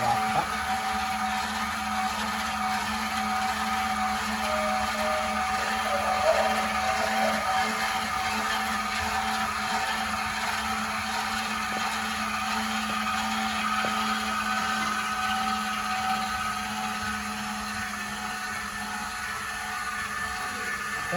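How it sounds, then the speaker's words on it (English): Stabilizer jack motors on a 2015 Viewfinder 30RLS travel trailer drone steadily and fairly loudly throughout, a continuous electric whine with no talk over it. "Once you hear the motors wind up like that, you know you're at your extension."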